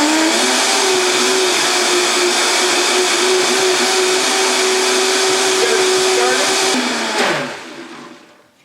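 A countertop blender grinds Thai peanut sauce with a loud, continuous motor whine for about seven seconds, then spins down and fades out.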